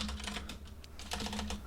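Steady typing on a computer keyboard: a quick, close stream of light key clicks with a low constant hum underneath and no voices.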